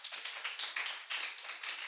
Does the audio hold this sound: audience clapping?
yes